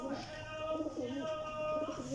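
Soft, low pigeon cooing repeats in short rolling phrases, close by, with a faint background hum.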